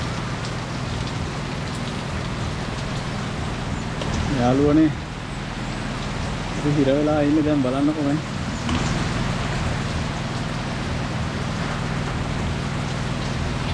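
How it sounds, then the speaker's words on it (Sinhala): Heavy rain drums steadily on a small roadside shop near Udawalawa, a loud continuous patter that goes on while someone talks over it in short bursts. "මහා වැස්සක් අඩුනවා"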